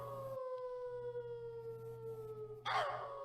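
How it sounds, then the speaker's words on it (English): A dog howls somewhere on an island in a long, sustained, wavering tone that gradually falls in pitch. It is heard from a distance over a low steady hum and ends in a brief, louder, noisy burst. "That's a real dog somewhere on this island."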